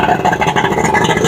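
A 1998 Johnson 200HP outboard engine runs steadily at a warm idle, a loud, close, continuous drone with a faint rhythmic pulse and no voices.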